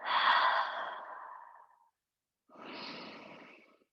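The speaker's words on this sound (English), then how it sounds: "5 full, slow, deep breaths. Focusing on the exhale." During a yoga pose, a person takes slow, deep breaths close up: a long airy exhale trailing off, a pause, then another breath, with no talking.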